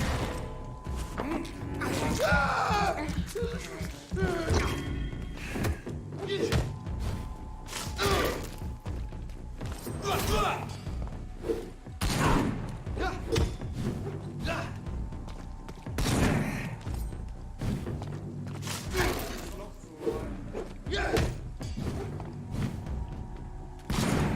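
Enemy gunfire during combat in the video game Vampyr, with irregular sharp shots and heavy thuds scattered across the fight amid mechanical clanks and impacts, fairly close and loud.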